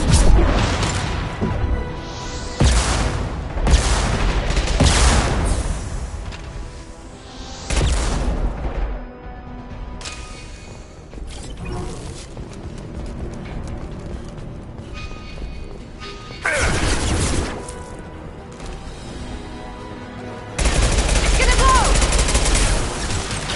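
Weapon fire from Mass Effect 2 impact shots, loud bursts of rapid gunfire and heavy blasts repeating in clusters, separated by quieter stretches of battle noise.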